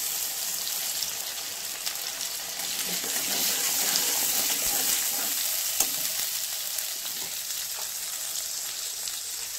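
A spice paste of ground ginger blended with milk fries in a pan while water from a mixer bowl is added, giving a steady, bright sizzle that swells for a moment and then settles back to a continuous hiss.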